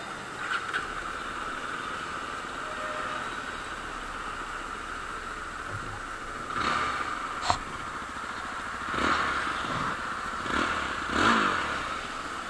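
A Yezdi Adventure 2025 motorcycle engine runs with a steady, loud drone, then rises in several short throttle blips toward the end, heard up close with no voices.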